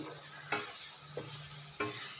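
Quiet, soft sizzling of tempering spices in oil for mango pickle, with three sharp scraping stirs of a spoon against the pan, evenly spaced.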